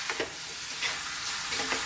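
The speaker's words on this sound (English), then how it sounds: "we're just going to be here stir frying it around" Chicken curry sizzles steadily in a hot pan while it is stir-fried, with a few soft scraping sounds.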